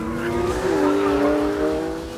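Porsche 911 GT3 RS driven hard, engine revving with tires squealing through a corner, loud and close for about two seconds.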